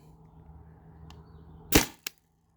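A single sharp, loud crack from a Byrna TCR less-lethal launcher firing, close up, followed by a smaller click, with quiet background hum before it.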